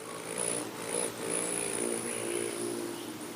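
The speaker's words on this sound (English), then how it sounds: "Don't be fooled by the gentle whirring sound of a hummingbird in flight." Wings of a male Rufous Hummingbird whirring in flight, a continuous soft buzzing hum that swells and fades slightly, faint and unbroken with no talk.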